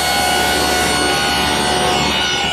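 A router fitted with an ogee bit from a door maker's set cuts a molding profile in wood, giving a loud, steady, continuous whine and rasp with no talk.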